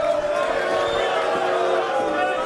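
A wrestling crowd reacts to Dick Justice with sustained, loud arena booing and babble, a steady wash of many voices that continues throughout.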